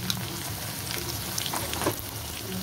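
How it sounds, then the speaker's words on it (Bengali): Potatoes frying in hot oil, giving a steady, dense sizzle with faint crackles and small pops throughout. "তেলটা গরম হয়ে গেছে, আমি আলুগুলো ছেড়ে দেবো। ছেড়ে ভালো করে ভেজে নেব।"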